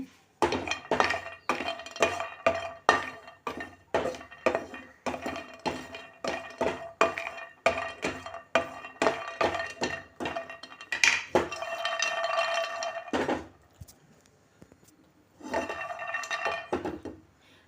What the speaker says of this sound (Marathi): ह्याच्यामध्ये मी ड्रायफ्रुट्स घालते ते पण भाजून घेते